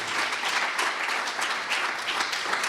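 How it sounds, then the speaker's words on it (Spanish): A church congregation claps loudly during a Spanish-language worship service, a continuous, dense wash of applause that holds steady throughout with no speech over it. "Démosle un aplauso bien fuerte al Rey de Reyes, Señor de Señores."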